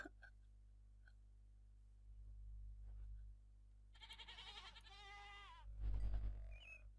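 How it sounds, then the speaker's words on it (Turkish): A goat in the Minecraft video game gives a few wavering, nasal bleats in the second half, heard over a low steady hum. "Bir adet keçi evcilleştirdim."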